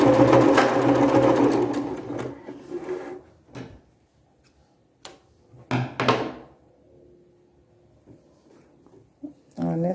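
A sewing machine joins fabric scraps with a backstitch, running in a loud, fast burst at the start, then giving a few short stitching bursts and clunks between pauses.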